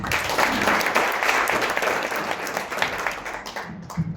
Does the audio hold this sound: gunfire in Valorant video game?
no